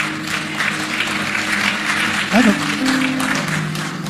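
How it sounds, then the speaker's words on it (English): An audience claps in a dense, steady patter at a wedding engagement gathering, with a voice speaking over the applause. "Are you clapping?"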